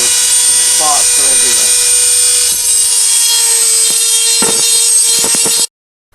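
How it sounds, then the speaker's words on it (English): A rotary tool fitted with a sanding bit grinds against a PlayStation 2 plastic case cut-out, a steady high whine with short scraping bursts near the end, then abrupt silence. "That's why I put my sanding bit on and started to have a go at that."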